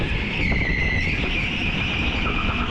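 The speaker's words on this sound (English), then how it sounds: "I'm now trying to slide the kart round on the wood" Go-kart sliding sideways round a corner on a wood-surfaced indoor track, with a steady high tyre squeal over a loud continuous engine drone that holds throughout.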